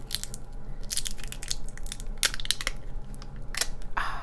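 Plastic wrapping crinkles and crackles as it is peeled off an ink bottle, a close series of bright, crisp rustling bursts at an irregular pace over a low background hum.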